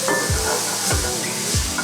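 Spices for shepherd's pie frying in a pan, a steady hiss of sizzling broken by three dull scraping strokes of a spoon stirring through, close by with no voices.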